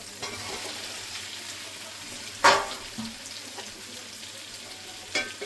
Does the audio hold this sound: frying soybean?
yes